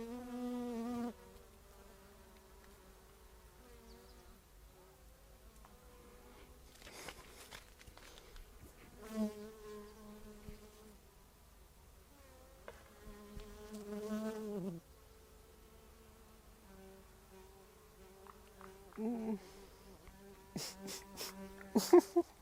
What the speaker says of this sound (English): I'm not too sure if you can hear the buzzing next to me.